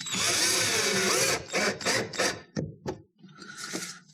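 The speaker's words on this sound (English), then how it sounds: "I'm going to try attaching a screw here as well" A power driver whirs in loud bursts as a screw is driven into a plastic fender flare piece: one long run, several short pulses, a brief stop, then a final whir.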